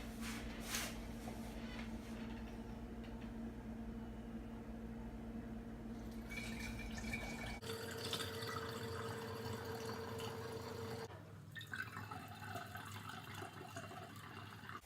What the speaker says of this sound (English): we're going to transfer the liquids from here into this 1 gallon growler. So we're just going to pour it through 2 colanders.